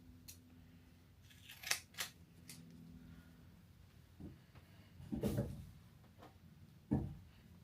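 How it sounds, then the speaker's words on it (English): Scissors make several sharp snipping cuts across golf grip tape with short gaps between them, fairly close and crisp over a faint low hum, with no talking. "Pair of scissors and just cut straight across."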